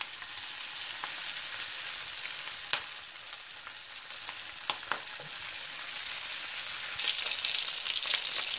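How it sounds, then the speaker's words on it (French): Steady crackling sizzle of shrimp curry samosas frying in hot oil, with a few sharper pops and spatters throughout; no voices. "Et je commence ma friture."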